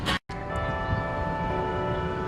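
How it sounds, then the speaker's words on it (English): Resonant bells ring with long sustained tones, a steady humming chime lingering after a brief cutoff at the start. "I love listening to the bells."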